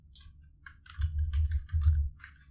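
A short burst of typing on a computer keyboard, a few close key clicks in two quick clusters, alone and fairly soft, as a page title is entered.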